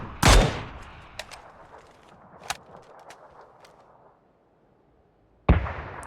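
A sharp, loud grenade blast bursts out at the start in PUBG, followed by a decaying rumble with scattered pops, then another heavy explosion near the end.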